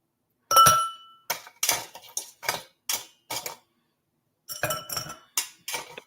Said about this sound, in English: I'm also going to put some ice in a glass.